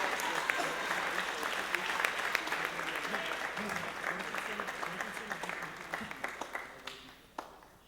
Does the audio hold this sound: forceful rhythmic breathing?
no